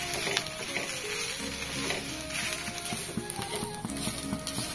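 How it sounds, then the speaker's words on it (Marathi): Onion and dry coconut roasting in a pan for a Maharashtrian mixed vegetable masala, giving a steady soft sizzle with scattered light taps and stirring scrapes, close and fairly quiet, with no talk. "आता इथे आपला कांदा खोबरा ना छानपैकी असं खरपूस भाजून झालेला आहे"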